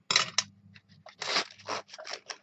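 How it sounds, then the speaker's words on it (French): Scissors cutting through ribbon on a handmade card storage box, with a few separate close snips and scraping blade strokes over a quiet background. "On va venir couper notre ruban."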